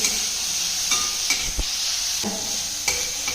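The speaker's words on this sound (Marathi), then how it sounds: "सगळ्या भाज्या आहेत त्या मीडियम गॅसवर आपल्याला थोड्याशा भाजून घ्यायच्या आहेत" Tomato, onion and carrot roast in a pan over a medium gas flame, a steady close sizzle broken by several short scrapes and knocks of a spatula turning the pieces.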